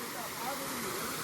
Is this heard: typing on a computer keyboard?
no